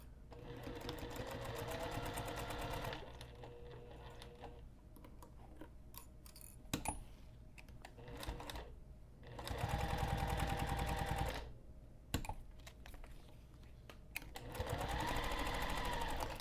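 A sewing machine stitching a backpack strap adjuster runs in several fast, buzzing bursts at close range, with short quiet pauses and faint handling clicks between runs.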